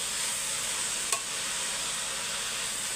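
Amaranth greens sizzle and hiss steadily in a hot pan while being stirred, with a single brief scrape of the spoon partway through; no talking.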